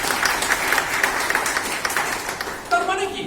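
A church congregation claps loudly during a Sunday service, a dense run of applause with sharper individual claps, ending as a voice begins speaking near the close.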